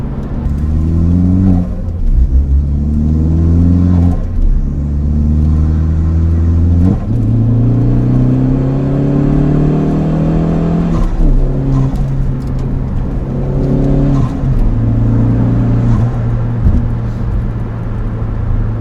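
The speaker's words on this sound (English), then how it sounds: "Intake sounds nice, man, and then the blow-off valve is just right." Tuned stage 1 Ford Focus ST engine with upgraded intake and blow-off valve, revving hard through repeated rising pulls with a deep rumbling note, loud and close throughout with no talking.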